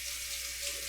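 Water running steadily from a deep kitchen sink tap, a close, even rush with a faint tonal hum and no talking over its short span.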